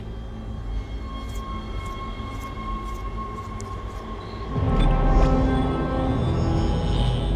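A tram moving in the video game Dead Space, a continuous rumbling rail hum with faint squeals that grows heavier and louder partway through as the car gets underway.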